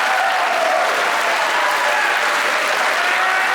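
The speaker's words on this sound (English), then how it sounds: "That is the type of forced, fraudulent crowd response" Stand-up comedy audience applauding steadily and loudly, a dense wash of clapping from a full crowd that holds throughout without a break.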